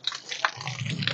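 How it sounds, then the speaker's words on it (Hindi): Water splashes in short bursts while a tractor or motorcycle is washed outdoors, brief wet slaps and drips close to the mic over a second. "ते मैं गड्डी धो लवां"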